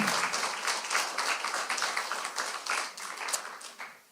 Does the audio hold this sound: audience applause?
yes